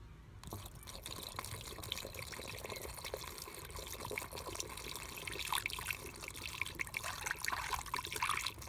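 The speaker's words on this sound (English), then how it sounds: "I'm going to start pouring the DEF fluid in here." DEF fluid trickles through a funnel into the tank of a BMW X5 E70 35d, a steady soft pouring and dribbling sound, faint and continuous throughout.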